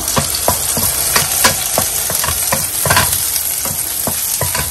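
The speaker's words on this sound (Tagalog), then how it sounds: "Tapos lalagay ko na din tong bawang saka sili na chinap ko." Chopped garlic and chili fry in hot oil in a pan, giving a steady loud sizzle broken by regular scraping stirs.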